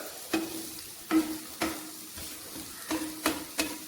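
Egg and spinach frying in a pan over low flame, with a soft steady sizzle broken by several sharp scraping stirs and flips of a spatula, close and alone.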